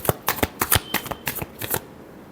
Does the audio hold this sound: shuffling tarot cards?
yes